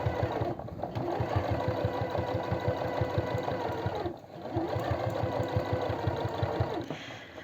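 A sewing machine stitches elastic knit fabric for a long-sleeve top, whirring in a fast, even rhythm, close and alone, with a brief break midway.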